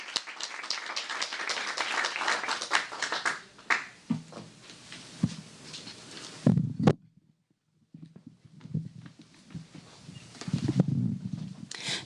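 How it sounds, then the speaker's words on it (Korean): An audience at the 2019 Jeju Forum applauds to welcome a speaker, a dense burst of clapping that thins out after a few seconds and gives way to scattered handling sounds and quiet. "큰 박수로 맞이해 주시기 바랍니다"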